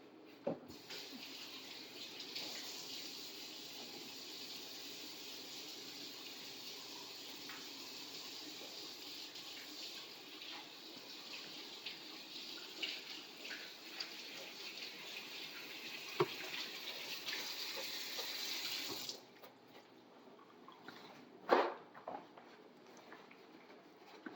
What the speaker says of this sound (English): We will dispose of the eggshells and wash our hands.